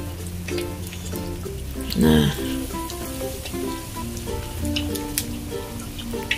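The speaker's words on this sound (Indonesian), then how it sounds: "Jadi kita goreng semua ayamnya dan goreng dengan api kecil ya teman-teman" Chicken wings fry in hot oil over a low flame, a soft steady sizzle with a brief louder crackling burst partway through, while a voice speaks a short word over it.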